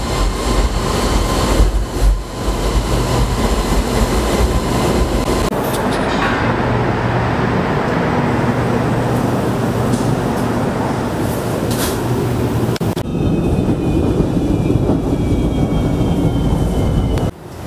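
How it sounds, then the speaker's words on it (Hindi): A city train pulls into a station with a loud, steady rumble of wheels on rails and a rising hiss and screech of brakes, filling the whole stretch without talk. "लो ट्रेन आ भी गई"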